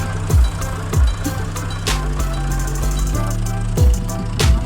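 A tractor engine, mentioned alongside Alghazi 65 hp, Fiat 640 and MF 385 models, runs steadily and close by in a village with rattling and clanking over a low drone, with short rising revs and bursts throughout.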